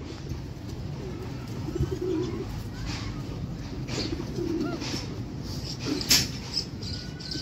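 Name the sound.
pigeons cooing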